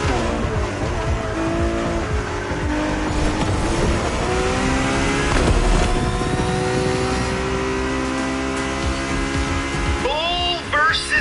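A racing car engine roars steadily in The Crew Motorfest, revving and shifting through gears with tire squeal and skidding near the end, while a voice talks over the continuous loud drive.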